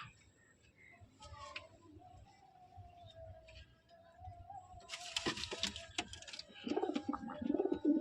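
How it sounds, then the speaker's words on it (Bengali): A pair of white-eyed pigeons, a male and a female, held in the hand give soft low cooing, followed by rustling wing and handling noises that grow louder toward the end. "তো আমি পায়রা দুটোকে দেখাচ্ছি ধরে"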